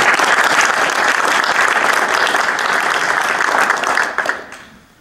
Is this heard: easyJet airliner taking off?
no